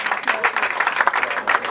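An audience applauds a singer as he is welcomed onto the stage at a music video launch event, a short dense burst of clapping heard close and continuous.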